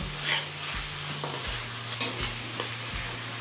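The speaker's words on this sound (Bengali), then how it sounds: "এখন দিচ্ছি টুকরো করা একটা বড় সাইজের টমেটো এবার টমেটো নরম হয়ে আসা পর্যন্ত কষিয়ে নেব" Chopped large tomato sautés in a pan with a steady sizzle, a low hum underneath and a few light spatula scrapes and taps, close and moderately loud.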